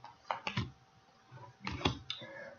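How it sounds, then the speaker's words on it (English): Tarot or oracle cards shuffled by hand during a reading, giving a few soft, papery clicks and flutters in short bursts, close and fairly quiet, with no talking. "I'm gonna shuffle, shuffle, shuffle,"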